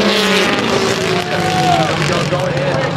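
Rallycross race cars in the opening round of the 2014 Red Bull Global Rallycross roar off the start together, a dense, loud wall of engine noise with rising engine tones, while a commentator talks over it.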